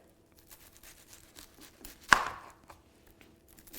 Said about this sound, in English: and cut this onion up